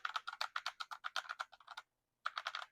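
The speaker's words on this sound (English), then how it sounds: "when you just get into it typing and you just want to hear that clinkety clack" Rapid clacking keystrokes on a retro typewriter-style keyboard, a steady run of crisp, close-up clicks, a brief pause, then another burst of typing; no talking.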